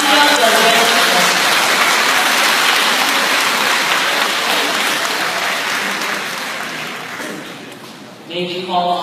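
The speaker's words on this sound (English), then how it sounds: "round of applause from Kingdom Surveillance Company." An audience at a coronation re-enactment claps in a sustained, dense round of applause that slowly tapers off before a voice begins speaking.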